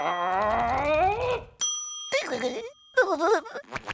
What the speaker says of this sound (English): stop ringing this bell